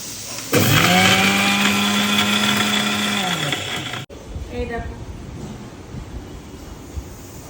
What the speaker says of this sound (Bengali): এইবার চালটাকে আমি মিক্সারে পেস্ট করবো